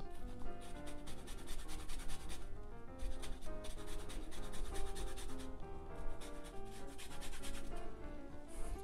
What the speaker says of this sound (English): Put a little bit of lemon zest on there.